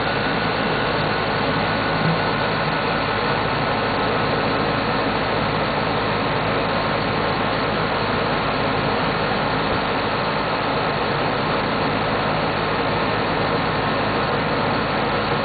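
Air conditioning condenser fan motor running, a loud, steady, unbroken hum and whoosh of moving air that holds constant throughout, close by and with no voices.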